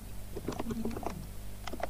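Soft clicks of typing on a computer keyboard while Python code is entered, a quick irregular run of key taps at close range with scattered pauses between bursts.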